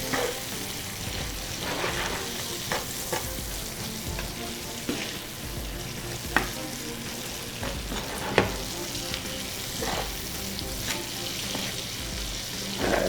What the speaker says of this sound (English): And we'll keep on sauteing